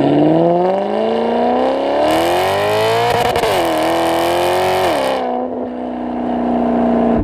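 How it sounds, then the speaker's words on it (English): The engine of a Maserati GranTurismo MC sports car revs hard and climbs steadily to its rev limiter, bouncing there with a loud, close, harsh wail, then drops back to a steady high idle. "Hit your rev limiter."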